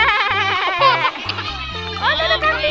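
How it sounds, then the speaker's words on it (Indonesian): Several goats bleat repeatedly in wavering, nasal cries, close by at a goat pen, with children's voices mixed in among the animals. "Oh, ada kambingnya."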